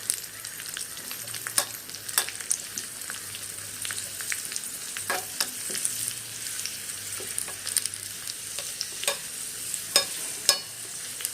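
Cashews and raisins frying together in a pan, a constant crackling sizzle with frequent scraping stirs and small pops, close and alone without talk.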